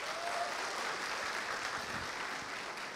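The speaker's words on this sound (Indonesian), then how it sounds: "Tepuk tangan dulu." An audience at a stand-up comedy show breaks into steady applause, a dense, even wash of many hands clapping at moderate volume, heard alone without speech.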